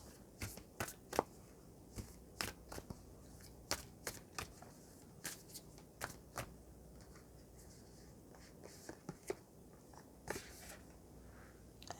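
Tarot cards are shuffled by hand in a quiet room, a series of crisp, close riffling and flicking bursts in an irregular rhythm with short pauses between.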